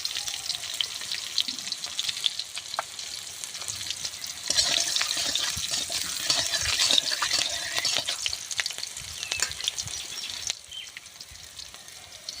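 Green chillies and nigella seeds spit and crackle in hot mustard oil in a kadai, a steady close sizzle that swells after a few seconds and eases near the end.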